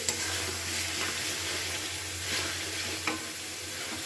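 Prawns with spices sautéing in a pan for a prawn and taro-stem curry, a steady close sizzle with occasional scrapes and clinks of a stirring utensil.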